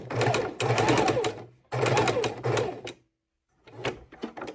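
A sewing machine stitches around a heart-shaped fabric sachet in two loud, steady whirring runs, stopping briefly between them, then a shorter burst of stitching after a pause.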